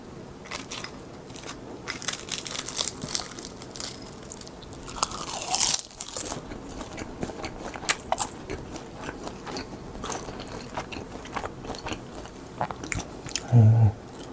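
Crisp crunching and biting of salmon-flavored seasoned laver (gim) up close, irregular brittle crackles and chews spread throughout, with a few louder bites and occasional soft mouth noises, no talking.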